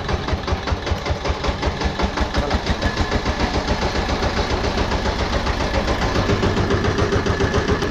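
A tractor engine runs steadily throughout, a loud, close, rhythmic diesel-like chugging with no talk over it.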